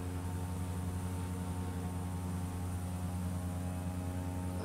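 Steady cockpit drone of a Cessna 208 single-engine turboprop in flight over Alaska toward Fairbanks, a constant close hum of engine and propeller with a low buzzing tone, unbroken throughout with no voices.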